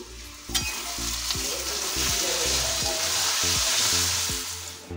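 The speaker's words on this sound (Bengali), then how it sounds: "এখন বেরেস্তার জন্য যে পেঁয়াজ ভাজা চলছে।" Sliced onions for biryani beresta frying in hot oil, giving a steady bright sizzle throughout, with a few louder stirring scrapes near the start and a faint low hum underneath.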